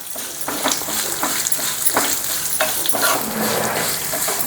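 Cumin and sesame seeds frying in oil for a Telangana-style fish curry, a loud close sizzle broken by repeated scraping stirs and spatters, no voices.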